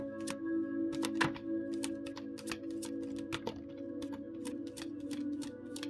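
Tarot cards being shuffled close by, a run of crisp riffling clicks and snaps over a steady low hum, with no talking.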